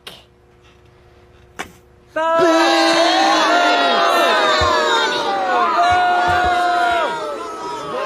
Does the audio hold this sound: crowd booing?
yes